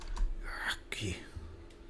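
Typing on a computer keyboard during a Lightroom photo edit, a few quick close key clicks and taps in a short burst over quiet room noise.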